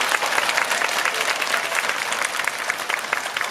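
A cinema audience applauds steadily at a Parasite screening Q&A, many hands clapping in a lively, even patter that stays strong from start to finish.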